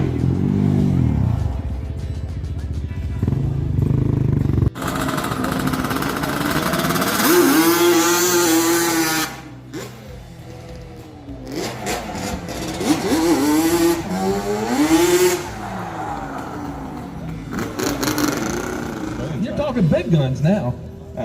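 Vehicles racing laps at a speed race, loud engines revving and roaring past with rising and falling pitch, mixed with crowd noise and someone talking over the sound.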